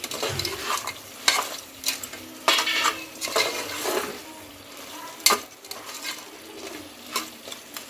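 Goat head curry with chili and salt being stirred in a pan, with repeated scraping and clinking of the spoon against metal over a soft sizzle of oil, no talk.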